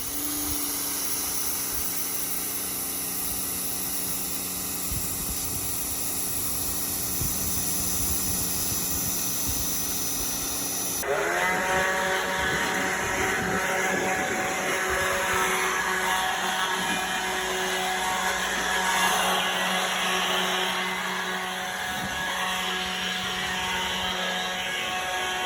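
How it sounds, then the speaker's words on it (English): A power washer blasting a car engine being readied to start, a steady hissing spray with pump drone that grows louder and rougher partway through as the jet strikes metal, continuous and close. "And the first thing we're gonna do is get out the power washer."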